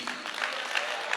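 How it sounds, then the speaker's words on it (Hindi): Audience applause at a Hindi-language gathering, steady dense clapping filling the short stretch at moderate level with no voices standing out. "जोरदार तालियां होनी चाहिए"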